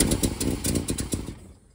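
A 1970 Plymouth Roadrunner V8 with six-barrel carburetors cranks on a hot-wired ignition, giving a rapid rhythmic series of starter-driven engine pulses that fade out after a second and a half, close and fairly loud.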